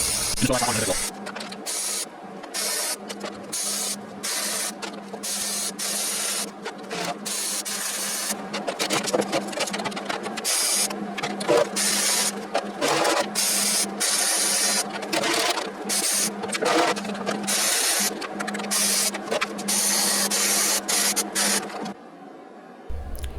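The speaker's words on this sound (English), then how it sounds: "I'm just putting a few inches of weld spaced out because I don't need a solid weld" An arc welder lays short, spaced tack welds on an old John Deere lawn mower deck, giving steady crackling bursts broken by brief pauses, with a faint hum beneath.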